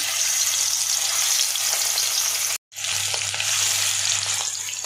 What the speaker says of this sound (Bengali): এই যে তেলটা গরম হয়ে গেছে। এখন এই যে মাংসগুলো দিয়ে নিই